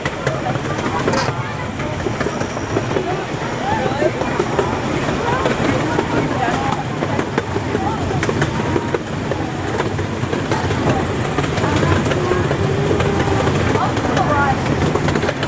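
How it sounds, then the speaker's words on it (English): Steady rumbling ride of a small open-air amusement park train at Knoebels Amusement Park after dark, with continuous clickety-clack rattling and wind, voices faintly mixed in throughout. "I love that clickety-clack."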